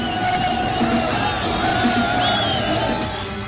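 Dense crowd noise from a packed nomination rally for Kangana Ranaut in Mandi, a steady roar of many voices with shouts and whoops rising above it, loud and continuous throughout.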